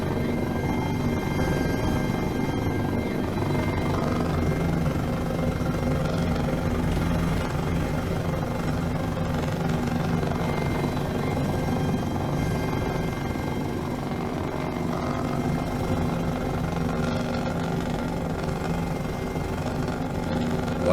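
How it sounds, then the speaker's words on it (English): A Mil Mi-8/17 helicopter in a flight simulator has its turbines winding down after engine cut-off, a loud, steady whine and rumble that holds for the whole span with no talk. "While the turbines spool down"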